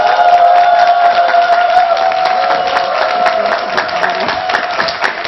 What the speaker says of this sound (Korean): 윤난희 쇼호스트님을 여러분 큰 박수로 부탁드립니다